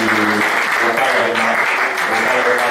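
Sustained applause fills a church hall as a congregation claps for graduates receiving certificates and for the music department leader, steady and loud throughout, with voices faintly mixed beneath.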